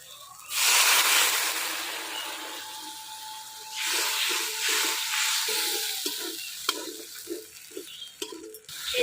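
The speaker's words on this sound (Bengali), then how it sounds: "এই যে আমার মশলা কষানো হয়ে গেছে, ধনেপাতা দিই।" Spice paste of chili, turmeric and a little water frying in a pan in a village kitchen: a loud, steady sizzle rises suddenly, then settles into softer hissing broken by rhythmic stirring scrapes.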